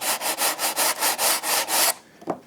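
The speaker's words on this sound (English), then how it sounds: "all I'm going to do is come in with a sanding sponge" Brisk rhythmic rubbing of a sanding sponge across the rough edge of a foam scenery board for a model train layout, about eight even strokes close by, then stopping with a small scuff.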